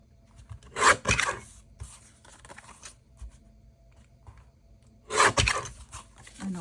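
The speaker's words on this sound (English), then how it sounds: "let's just get my trimmer back out here and trim a little off each side here." Paper trimmer slicing the edges of a handmade paper matchbook, with two loud raspy cutting strokes a few seconds apart and soft handling rustles between them.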